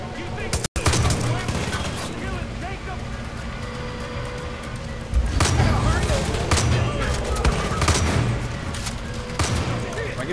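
Rapid gunfire bursts in the shooter game Far Cry 5, sharp repeated shots and crackling volleys that grow louder and denser in the second half, mixed with game noise and a voice talking.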